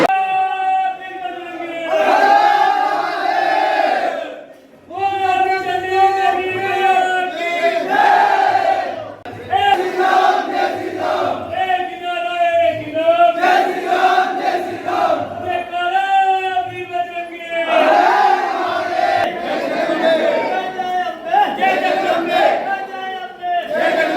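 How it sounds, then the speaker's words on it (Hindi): A large crowd of devotees at Chandi Devi temple on Chandi Chaudas chants jaikara slogans in loud, rhythmic call-and-response waves, with many voices rising and falling together in repeated bursts for over twenty seconds. "अब आप देख सकते हैं जयकारे यहाँ पर लगाते हुए जो श्रद्धालु हैं वो निकल रहे हैं"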